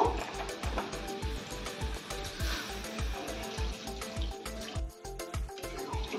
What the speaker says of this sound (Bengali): এবারে আমি এর মধ্যে পরিমাণ মতো জল দিয়ে দেবো, তবে জল খুব একটা বেশি দেব না, অল্প জল দেব।